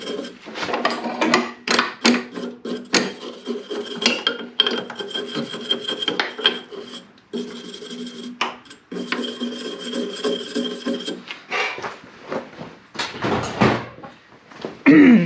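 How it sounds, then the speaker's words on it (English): A brass brush scrubs corrosion off a part of an antique Snapper I 422 snowblower: close, irregular rasping strokes in quick bursts with a few short pauses between passes. "I'm just going to wiggle over it with this brass brush. That's going to break up any corrosion."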